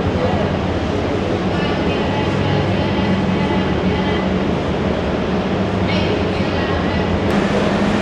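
Mohonganj Express passenger train, Dhaka to Mohonganj, heard while boarding: a steady rumbling railway din with clanks, and voices murmuring underneath throughout.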